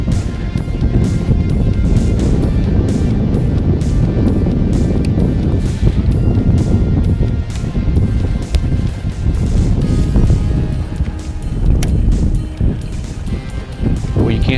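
A trolling motor runs on a boat on Beaver Lake, a loud steady low rumble mixed with wind buffeting the microphone and water sloshing, continuous throughout.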